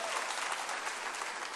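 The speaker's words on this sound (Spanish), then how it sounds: "un aplauso para ustedes" A short, quiet burst of church congregation applause marking ten days of fasting, an even patter of many hands at a distance.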